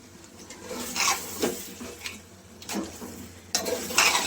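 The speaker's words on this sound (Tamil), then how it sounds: "தயிரை ஆட் பண்ணிவிட்டு நல்லா கிளறி விடுங்க" Yogurt being stirred into chicken biryani in a pot, heard as a series of soft scraping, clinking spoon strokes at an irregular pace over a low background sizzle, close by and with no voices.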